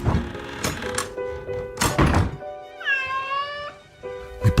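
A cat meows once, a clear rising-falling cry, while shut inside a garage, between heavy thumps and knocks that sound like a door or objects being handled nearby.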